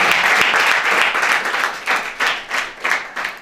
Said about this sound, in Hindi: एक बार जोर से तालियां बजाएंगे।